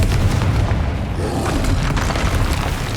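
Confringo fire spell in the Hogwarts Legacy video game, a loud rumbling explosive blast that fills the whole moment with dense roaring noise and no talking.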